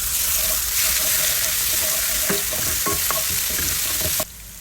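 Garlic dropped into hot oil and frying, a loud close sizzle with stirring clatter and a few utensil clinks, cutting off abruptly near the end.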